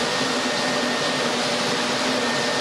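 A Timba floor machine runs with a loud, steady, broadband whirring roar and a faint tonal hum, continuous and close with no talking.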